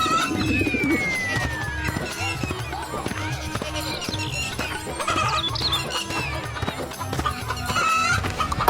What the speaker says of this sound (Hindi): कलुआ शाम को बाजार से 2 बड़ी बड़ी मुर्गियां खरीदता है और रवि के घर जाता है।